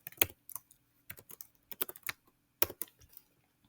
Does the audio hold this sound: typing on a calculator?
yes